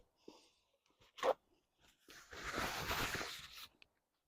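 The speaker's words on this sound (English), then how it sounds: "And I'll take myself a little bite." A bite into a crunchy spicy crab rangoon popper with jalapeno, bacon and sriracha mayo, giving a sharp crunch followed by a few seconds of close, loud crunchy chewing.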